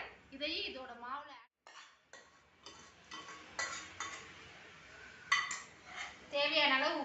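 Ground sorghum batter is stirred in a pot with a metal spoon, giving repeated scraping clinks and knocks in uneven bursts, while a voice speaks briefly at the start and end.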